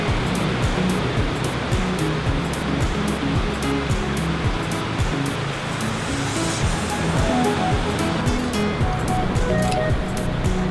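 Steady roar of ocean waves breaking on a shore, a continuous dense wash of surf with no pauses, fairly loud and close throughout.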